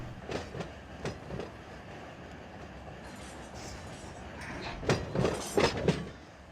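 Locomotives roll on rails in Run 8 Train Simulator, with rhythmic clickety-clack wheel beats over joints recurring above a low running rumble, growing denser and louder toward the end; no talking.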